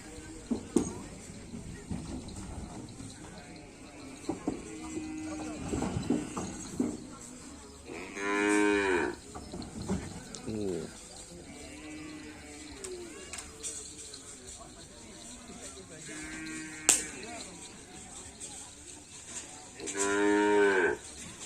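Several loud, drawn-out cattle moos sound up close as large cattle are unloaded, separated by shuffling and background chatter from people nearby.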